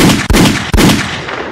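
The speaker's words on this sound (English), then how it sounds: "Let me get a gunshot going." Gunshot sound effect played during a podcast: two sharp, loud bangs about half a second apart, each cutting through a dense, roaring wash of noise that fades slowly afterward.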